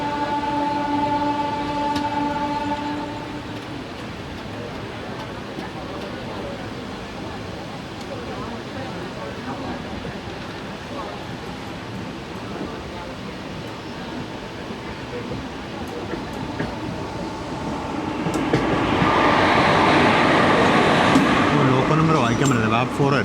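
Intercity Express train running from Angadippuram to Ernakulam, a steady rumbling rattle of carriages on the rails throughout, with a tonal hum early on and a louder, brighter roar swelling near the end.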